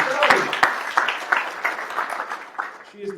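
Audience applause greets a speaker at a live event, loud and steady for a few seconds with a few sharper claps standing out.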